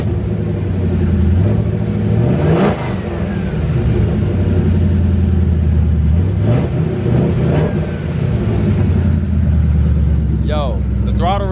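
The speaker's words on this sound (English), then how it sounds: "So I hit the throttle for you guys one time" A 400+ hp Ford Crown Victoria on 8s has its throttle hit, giving a few loud rising revs that drop back to a deep rumbling idle, heard close with someone speaking briefly near the end.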